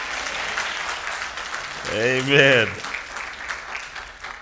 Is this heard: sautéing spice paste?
no